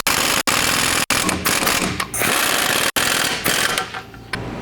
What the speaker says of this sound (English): And then tighten those down. With a 19mm socket and wrench,